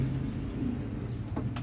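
Young racing pigeons coo softly in a loft, low rhythmic burbling calls close by over faint background noise, with a few light chirps and rustles.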